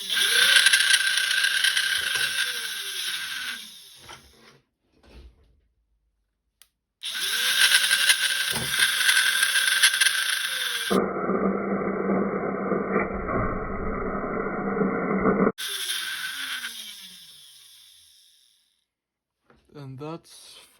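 Flywheels of a 3D printed dart blaster spin up with a rising whir, cut off, spin again and fire, followed by a rougher mechanical clatter section and a final spin-down; close, loud bursts separated by silences.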